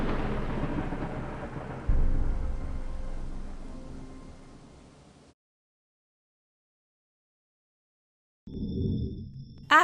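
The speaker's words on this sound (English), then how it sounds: "It was night time and a terrible storm was just beginning." A thunderstorm sound effect: a loud thunder crack and rumble over rain that slowly fades to silence, then rain and a fresh burst of storm noise return near the end.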